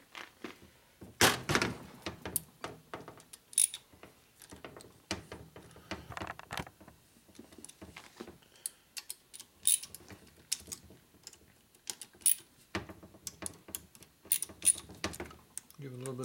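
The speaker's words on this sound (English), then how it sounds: "So I'm going to torque on my torque wrench right here." Torque wrench tightening bolts on a 1980 Harley shovelhead 92ci stroker top end during a rebuild. A series of metallic thunks and clicks comes in irregular bursts, close and fairly quiet, with someone talking in between.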